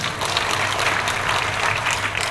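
A church congregation claps together during a New Year's Day sermon, a dense, steady wash of many hands sustained at full level throughout.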